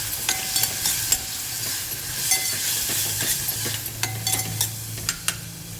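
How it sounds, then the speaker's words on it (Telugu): Soaked chana dal (split chickpeas) sizzles and fries in a pan, stirred with scraping clinks of a utensil against the metal at irregular intervals over a steady low hiss, close up with no talking. "శనగపప్పు వేసినాం కదా, కొంచెం వేగనిద్దాము."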